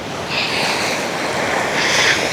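Strong gusts roar across the microphone at a beach on Polillo Island, a rushing, surf-like hiss, a steady loud blowing that swells slightly toward the end.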